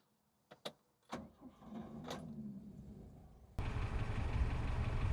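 A few clicks and clunks, then the engine of a 1964 Volvo Amazon with the choke partly out turns over and catches, settling into a steady rough idle that grows louder and fuller near the end.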